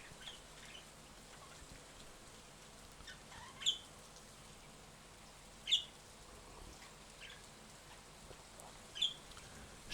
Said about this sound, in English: the birds outside the window are talking back to Fred and Ginger